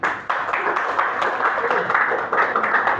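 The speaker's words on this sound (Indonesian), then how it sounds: "Bagus, tepuk tangan Pak Muarif." A seminar audience claps together after a speaker's remark, a steady close patter of many hands lasting throughout, with a faint voice underneath.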